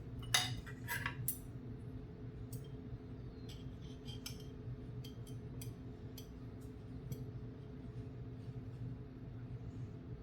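Banana pepper rings being added to a sub sandwich in a kitchen: scattered light clicks and utensil clinks, a few sharper taps early on, over a steady low background hum, with no talking.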